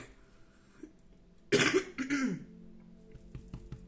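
One person gives a short burst of coughing and throat clearing, fairly close, in an otherwise quiet room.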